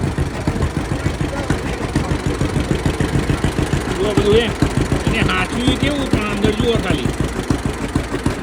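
A 1952 tractor engine runs steadily at idle, a close, rhythmic low chugging that continues throughout while someone talks over it.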